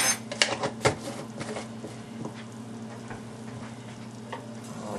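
Minced garlic and food simmer and brown in a pan with a soft, low sizzle. A few clattering utensil taps come near the start before it settles into a quiet, steady frying hiss.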